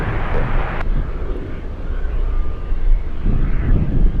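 A de Havilland Turbo Otter seaplane flying near Anchorage, a steady broad engine and propeller roar heard from a distance, blended with wind noise on the microphone.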